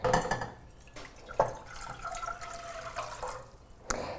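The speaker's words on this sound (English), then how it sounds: "I'm gonna go ahead and pour it in." Water is poured into a pot for cooking rice, giving a few soft splashing and trickling bursts at close range in a quiet kitchen.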